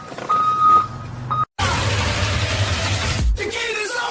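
A vehicle's reversing alarm beeps in a few short tones near the start, followed by a loud rushing noise and a deep rumble, with traffic-like sound continuing after a brief dropout.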